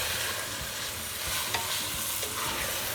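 Carrot halwa with mawa and poppy seeds stirred in a hot pan, giving a dense steady sizzle with scraping and stirring sounds, close and continuous, with no talking.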